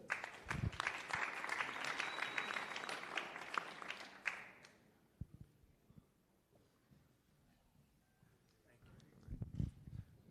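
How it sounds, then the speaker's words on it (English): An audience at a boxing press conference applauds a fighter being introduced, with dense clapping for about four seconds before it fades into a quieter room with scattered claps and voices. "big round of applause, please, for Otha Jones III"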